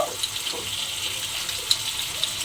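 A little water poured into ground chili and turmeric spices, a soft continuous trickle close by with a few faint clinks.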